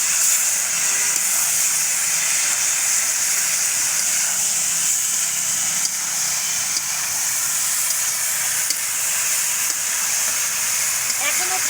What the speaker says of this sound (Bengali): এখন দিয়ে দেবো কেটে রাখা বেগুনগুলো